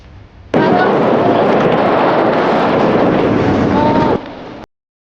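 Strong wind roars and buffets the microphone on the summit of Mount Ciremai. The loud, dense rush holds steady for about four seconds and then drops away abruptly.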